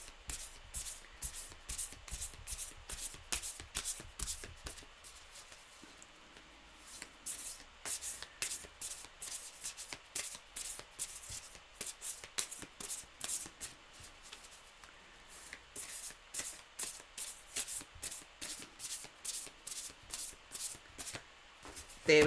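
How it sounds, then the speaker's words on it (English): A tarot card deck shuffled close up in repeated bursts of quick riffling flicks, each run followed by short pauses, quiet and with no talking. "I was shuffling the deck"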